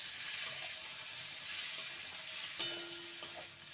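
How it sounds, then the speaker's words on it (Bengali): Ivy gourd (kundri) stirred in a pan just after the lid comes off, a soft ongoing sizzle under a handful of sharp spatula scrapes and clinks, one louder knock partway through, close and without voices. "এবারে ঢাকনাটা খুলে আরেকবার নেড়ে নেব"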